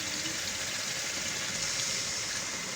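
Water is poured into a potato and egg curry while it cooks, giving a steady, soft hiss of flowing liquid that runs continuously and evenly throughout, fairly quiet and with no talking.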